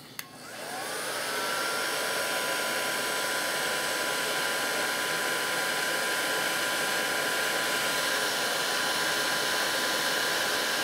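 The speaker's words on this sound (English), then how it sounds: "Now I can very easily just slide a piece of heat shrink down over that and take my blowgun" A heat blowgun switches on and spins up to a loud, steady whooshing roar, held continuously while it shrinks heat shrink tubing over a wire during a model aircraft build.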